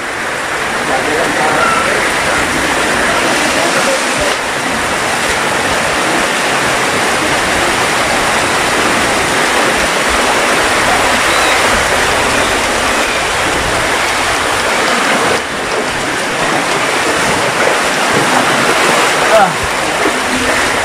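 Floodwater rushes steadily through a flooded pig pen, a constant loud broadband roar of flowing water with no pause, like a stream or small waterfall.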